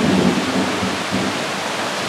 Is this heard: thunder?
yes